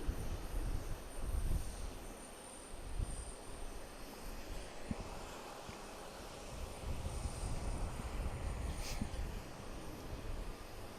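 An airliner at Houston's Bush Intercontinental Airport gives off a steady, distant jet engine roar with a faint high whine, holding fairly constant throughout without speech.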